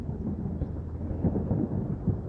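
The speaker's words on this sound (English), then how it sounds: "Can't you hear the thunder?" Deep rolling thunder rumbles continuously and fairly loud, with heavier swells of the roll toward the end and no voices.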